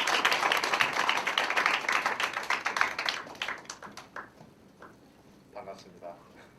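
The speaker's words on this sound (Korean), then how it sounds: "다시 한번 우리 뜨거운 박수 부탁드립니다." Congregation applause at a university-group church worship service, loud and dense at first with rapid overlapping claps, then thinning and fading over the last few seconds into scattered claps.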